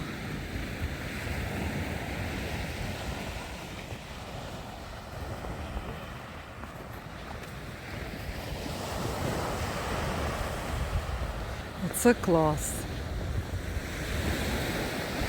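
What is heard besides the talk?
sea waves and wind on snowy Odesa shore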